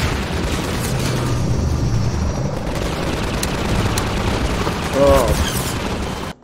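Heavy gunfire and booming blasts from a firefight in Half-Life 2 roll continuously and loud, a dense rumble of shots with a sharper burst near the end, while a man reacts briefly with an exclamation.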